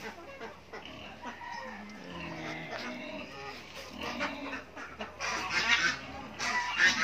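Chicks and chickens on a small backyard farm make scattered clucks and chirps at close range, growing busier and brighter toward the end, with faint talking in the background.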